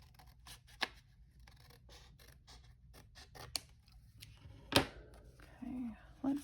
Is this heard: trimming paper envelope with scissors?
yes